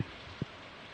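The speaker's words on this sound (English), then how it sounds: "Okay, it's raining out." Rain in the video game Stardew Valley falls as a soft, steady hiss. Two brief low thumps break through it, one at the very start and one a little before the midpoint.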